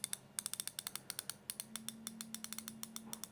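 A fine-tooth 72-tooth chrome Halfords ratchet spanner clicks in quick, fairly even bursts, crisp and close with a faint faster whir between clicks.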